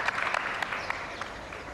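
Audience applause at a festive show, a dense wash of clapping with a few sharper claps standing out, steady and fairly close throughout with no voices on top.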